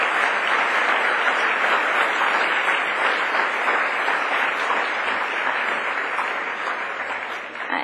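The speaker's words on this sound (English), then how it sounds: "Could I ask you now to please join in giving all of them a round of applause and our greatest thanks." An audience gives a round of applause and thanks at the close of a day-one report event. Sustained, dense clapping from a large crowd stays loud and even, easing off slightly toward the end.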